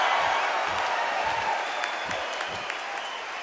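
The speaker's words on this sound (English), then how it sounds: "The crowd here cannot wait. They've been buzzing all day long" Arena crowd noise from the Undisputed boxing video game, a steady loud roar of cheering and applause filling the whole stretch with no voice over it.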